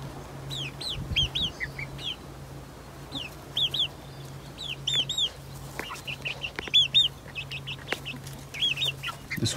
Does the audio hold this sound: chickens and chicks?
yes